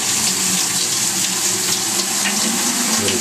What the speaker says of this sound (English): I start putting the water through the seed. Just pour it on through